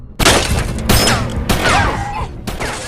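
Gunfire crackles through a film scene in several sharp bursts and a fusillade of close shots, with whistling and screeching tones sliding through the middle of the sequence.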